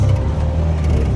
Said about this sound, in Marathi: ऑटो रिक्षाचा प्रवास